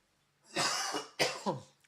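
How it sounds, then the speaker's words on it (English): A person coughs two or three times in quick succession, close and harsh, with nothing else around it. "Sorry for coughing."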